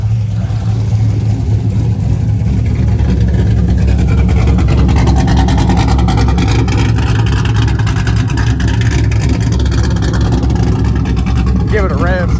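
The engine of a 500hp WS6 car runs loud and close with a rough, rumbling idle that swells into revs across the clip, with people talking over it.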